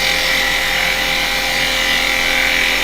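A wood lathe spins a hard piece of wood while a turning tool cuts a bevel, a loud continuous whir and high scraping hiss held steady and close for the whole stretch.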